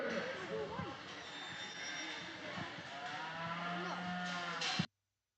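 Cattle moo loudly and repeatedly in a show ring during a youth beef show at the Laramie County Fair, with a steady crowd and talk murmuring underneath before the sound cuts off abruptly.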